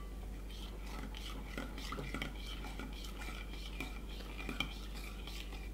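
Sugar and yeast being stirred together for pizza dough, with a spoon clinking and scraping against a bowl, faint and continuous over a steady low hum.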